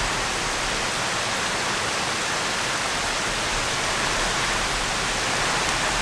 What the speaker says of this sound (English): I got my own personal new creek coming right through here, and with a koi pond, a waterfall